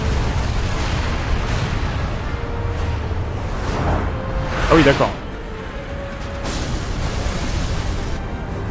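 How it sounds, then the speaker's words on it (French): A Final Fantasy XII: The Zodiac Age explosion booms out in a brief loud burst, a swelling crack with a rushing tail, under ongoing game sounds while someone speaks briefly over it. "On n'est pas sur une explosion de type classique."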